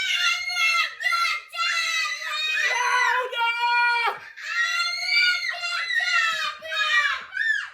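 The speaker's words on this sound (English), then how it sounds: "You need to shout abracadabra louder than anything you've ever shouted before." A group of kids yells over and over at full volume at a virtual magic show, shrill overlapping shouts coming in repeated bursts with short breaks.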